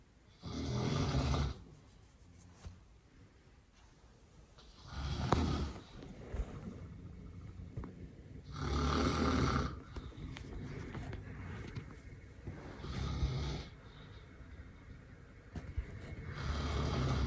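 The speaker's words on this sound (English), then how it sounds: "You snored quite a bit." A person snores through a nap, slow rhythmic rasping inhalations roughly every four seconds, fairly close and steady, with quiet breathing between snores and no talking.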